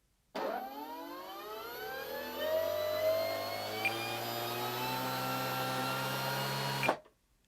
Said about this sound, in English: let's take this thing off throttle cut and let's spin the prop